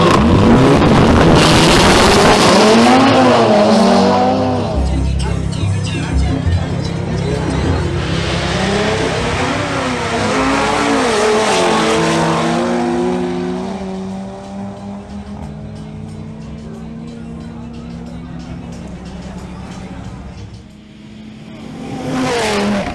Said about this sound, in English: The next to make a new pass is Pedro Mogollon in his Audi RS3.